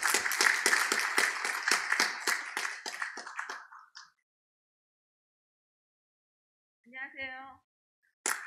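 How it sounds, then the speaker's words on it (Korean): An audience at a formal foundation ceremony in a hall applauds to welcome a lawmaker to the podium, a steady patter of claps that thins out and stops after about four seconds, followed by silence and a brief voice. "모두 큰 박수로 의원님을 맞이해 주시기 바랍니다."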